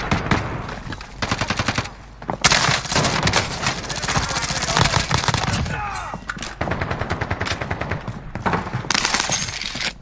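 Bursts of automatic fire from the Oden rifle in Call of Duty Warzone's Rebirth map crackle in repeated rapid volleys, loud and close, with short pauses between strings of shots.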